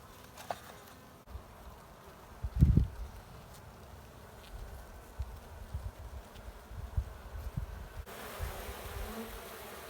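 Honeybees hum steadily at low volume around a hive being split into boxes, with a thud and scattered handling knocks and rustles over the buzz.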